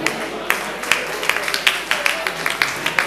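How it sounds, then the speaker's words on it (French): Applause at a festival ceremony in a French-speaking setting: scattered, uneven hand claps rising and falling in bursts over a murmuring crowd, moderately close. "Applaudissements s'il vous plaît"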